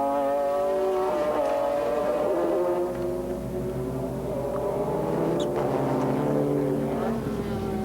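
A Bugatti McLaren race car engine drones loudly and steadily during a 1996 race at Curitiba, its pitch slowly rising and falling as it pushes on at speed, with no pauses.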